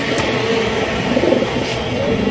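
A large black mundi pigeon and others coo in a steady, close chorus of low throaty calls over constant background hum.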